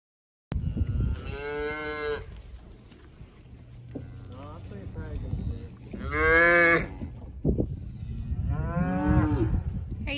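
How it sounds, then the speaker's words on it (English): Hereford and other cattle at a farm feedlot give three long, loud, close moos, with quieter lowing and rustling between them. "we're going to let the cows into the feedlot so that they can eat"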